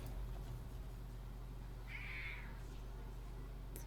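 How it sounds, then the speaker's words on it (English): A grumpy house cat lets out a single drawn-out meow, fairly faint and close, over a steady low hum from background electronics. "This is a very noisy cat."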